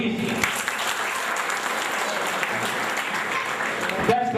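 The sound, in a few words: audience applause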